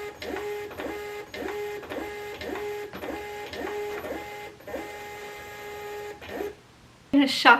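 A new MUNBYN label printer feeds and prints a label in repeated rhythmic mechanical bursts with steady whirring tones for about six seconds, stopping before a brief louder noise at the end.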